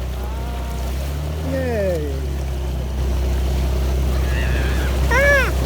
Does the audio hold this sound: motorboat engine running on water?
yes